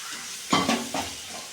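Sweet potato sautéing in a pan: a few quick spatula scrapes and stirs over a soft, steady sizzle, brief and close.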